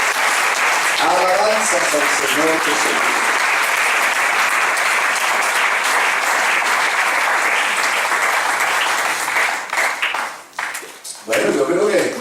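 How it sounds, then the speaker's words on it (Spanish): Congregation applause during a church sermon, sustained and loud clapping from a large group that fills most of the stretch, thinning out near the end as a voice speaks briefly over it. "¿Qué tal si le das un aplauso a eso?"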